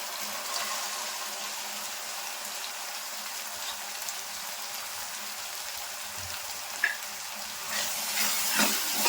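Chopped vegetables sizzle in a pan while being sautéed for paneer vegetable rice, a steady bright hiss with occasional stirring clinks and scrapes, no voices.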